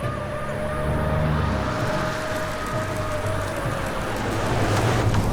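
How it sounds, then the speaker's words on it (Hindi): In an animated cartoon story, police jeeps and officials' cars pull up outside a bungalow, their sirens wailing in rising and falling sweeps over a steady, hissing wash of background noise. "चारों तरफ सायरन की आवाज गूंज रही है।"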